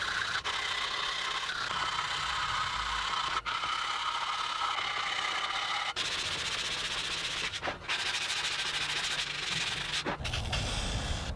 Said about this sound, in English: Let that glue sit up a little bit, and then we sand.